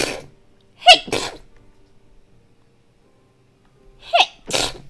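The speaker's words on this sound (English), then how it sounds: "I'm gonna sneeze." Two close, loud human sneezes come in quick pairs, one near the start and another near the end, separated by quiet, each a sharp burst with a vocal catch.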